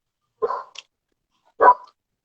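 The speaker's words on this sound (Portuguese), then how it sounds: "tem um cachorro aqui do vizinho que ele tá um pouquinho" A neighbour's dog barks twice, two sharp, fairly loud barks separated by about a second of quiet.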